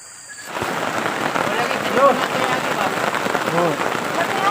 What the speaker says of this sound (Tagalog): Malakas yung ulan mga kapibi